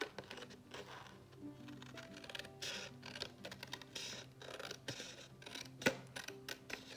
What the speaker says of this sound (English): I'm going to trim this since I cut it with a scissor.